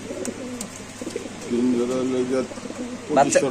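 Soft, low racing pigeon cooing rises and falls in short bursts, with people talking nearby over it at a pigeon sale.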